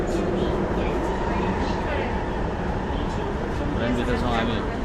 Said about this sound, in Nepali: हामी अहिले ट्रेनभित्र चढिसकेका छौँ।